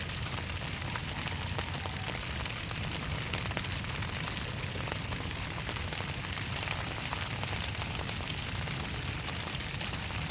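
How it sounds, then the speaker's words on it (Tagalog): Heavy rain pours down in a steady, dense hiss, loud and continuous throughout, with no voices. "grabing ulan mga ka-farmers"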